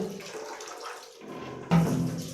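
Water gushes from the outlet of an instant gas geyser during a repair check, a steady splashing flow that briefly thins and then returns harder and louder.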